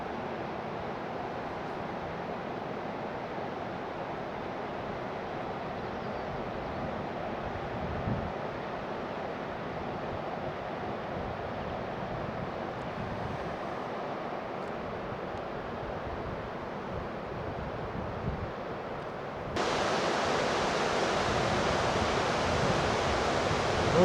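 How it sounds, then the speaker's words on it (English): Crystal Creek flowing out of a canyon above a river's middle fork, a steady broadband rush of water heard from a distance, growing slightly louder and brighter near the end, with no talking. "This should be Crystal Creek coming in over here"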